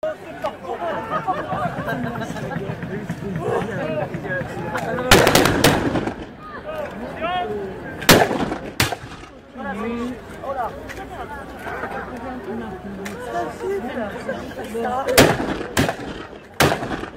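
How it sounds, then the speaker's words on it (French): Cannon and musket shots at a Napoleonic battle reenactment in August 2017, several sharp loud blasts at irregular intervals over a steady murmur of crowd chatter. "L'artillerie, s'il vous plaît, c'est le dernier coup avant la présentation."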